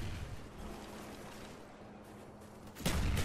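Gunfire rattles through a Black Ops video game match in a noisy, continuous stretch of shots, ending in a sharp, louder burst near the close.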